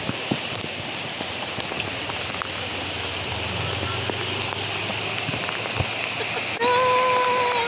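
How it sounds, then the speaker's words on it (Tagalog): Steady typhoon rain pattering on a surface, continuous and close, with scattered drip ticks and a tonal whine joining near the end. "Ulan."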